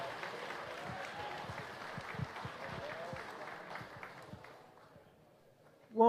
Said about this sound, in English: let's have a big round of applause for Randy and his wife Anna and all the team that put all this together